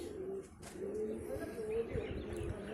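Domestic pigeons coo repeatedly at a rooftop loft, soft throaty rolling calls close by over a steady background hum, with faint chirps mixed in.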